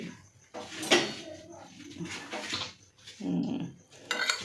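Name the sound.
child's spoon and Dora plate being handled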